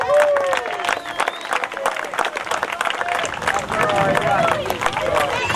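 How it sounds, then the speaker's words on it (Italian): Audience at a windsurfing Slalom Foil championship award ceremony on a beach applauds a winner, clapping mixed with crowd chatter and a voice over a loudspeaker throughout. "Un applauso, Giorgio Giorgi!"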